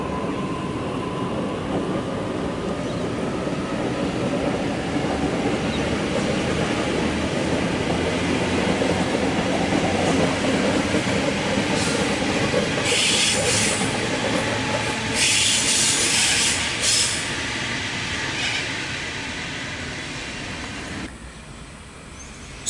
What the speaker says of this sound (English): We have A44 now departing platform number 2,